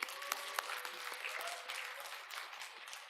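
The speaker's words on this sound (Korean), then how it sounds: "아이노스도 잘했다고 박수" A church congregation applauds a worship group called Inos during a Sunday service, with dense, steady clapping that fills the room for a few seconds and has a few sharper claps near the start.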